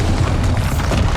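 A loud, sustained booming blast from the Bombarda spell in Hogwarts Legacy, a dense, close rumbling explosion filling the whole moment.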